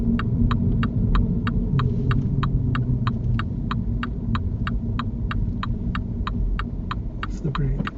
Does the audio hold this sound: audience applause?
no